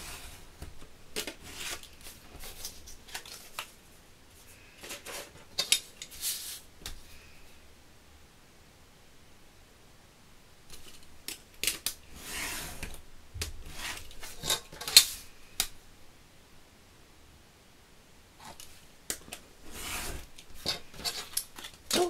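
Blade scraping through card paper along a rubber-backed ruler, making quiet intermittent rasping strokes in short bursts separated by pauses, close and soft with no talking.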